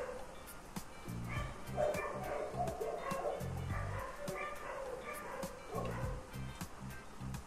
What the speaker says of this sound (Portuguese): Até os cachorros estão tristes com o Kinshay